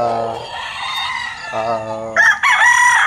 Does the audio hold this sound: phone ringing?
no